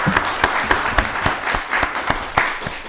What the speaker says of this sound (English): Let's give them a round of applause for making this happen.